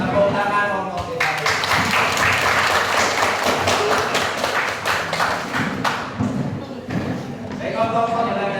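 Patterned classroom clapping game, a class clapping along in a rhythm, a burst of fairly loud claps and thumps that sputters and fades, with a voice talking over parts of it.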